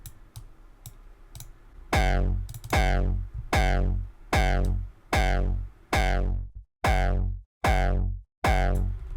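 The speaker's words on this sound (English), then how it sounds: "that is our secret sauce, our final ingredient to the hardstyle kick" Punchy, distorted electronic kick drums thump in a steady four-on-the-floor pattern after a quiet start, each hit loud with a sharp attack and pitched-down tail.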